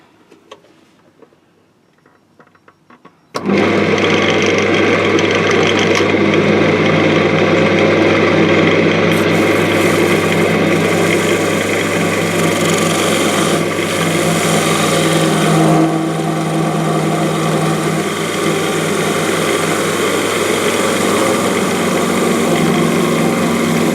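A lathe turns a custom Kilner jar top while a thin parting tool made from a hacksaw blade cuts. Near-silence gives way suddenly to a loud, steady whirring and cutting drone that runs to the end.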